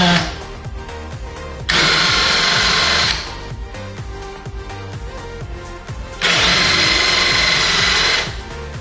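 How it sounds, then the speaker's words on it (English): A power drill whirs in two bursts of a second or more each, drilling holes in wood, with quieter handling noise and clatter between them. "I'm actually going to drill 4 holes, countersink these"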